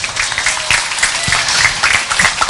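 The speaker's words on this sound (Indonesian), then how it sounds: "Tepuk tangan buat ibu dan ayah kita semua." Loud audience applause at an Isra Mi'raj religious gathering, a dense wash of many hands clapping steadily throughout, with no voices over it.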